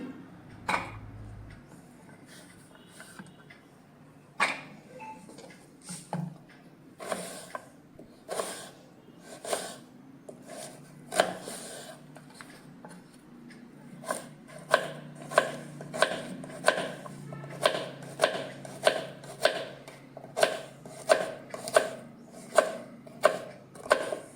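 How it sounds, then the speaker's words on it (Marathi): A knife chops raw mango into fine pieces on a board, with a run of close, sharp, regular taps that become faster and more even in the second half. No one speaks. "अशी बारीक चिरून घेते मी"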